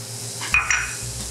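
Onions, garlic and jalapeno hit a hot pan and start to sizzle, with a brief close clatter and stirring scrape at the start that settles into a steady, moderate fry.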